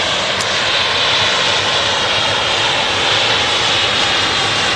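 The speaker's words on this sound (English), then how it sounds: "taxiing past us is a Austrian Embraer 195" An Austrian Airlines Embraer 195 jet taxis past at Manchester Airport, a loud, steady engine roar and whine holding unbroken and close throughout.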